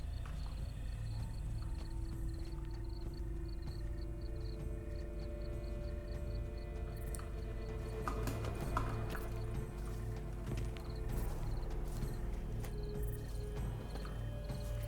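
A horse's hooves clip-clop at a steady walking rhythm in The Witcher 3, quiet and fairly close over a low ambient hum, with a few clattering knocks midway.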